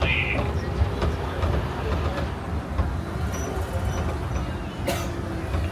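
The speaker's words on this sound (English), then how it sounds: "please remain seated with the doors closed until the tram comes to a full and complete stop" The Disneyland backlot tram rumbles and rattles along as it comes to a stop, a steady, close mechanical rolling noise with faint clicks and no talk.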